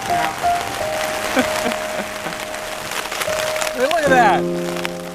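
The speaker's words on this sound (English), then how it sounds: "It's like a half a centimeter of hail." Hail about half a centimetre across falls outdoors in the backcountry, a dense, crackling patter of small impacts heard throughout, with people talking over it and a whistle-like tone near the end.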